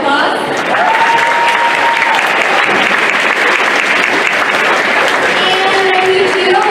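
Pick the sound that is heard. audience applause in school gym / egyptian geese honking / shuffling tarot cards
audience applause in school gym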